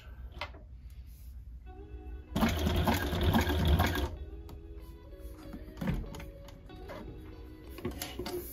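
An industrial sewing machine stitches dog gear with the presser foot lowered, running in a loud burst of about two seconds after a quieter start, followed by softer clicks and thumps from the workshop.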